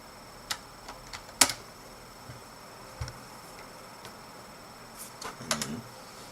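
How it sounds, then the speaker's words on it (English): A computer keyboard tapped in short scattered bursts while a name and password are entered, light clicks with a few sharper keystrokes, fairly close and quiet, no talking. "I'll just type in my name and password"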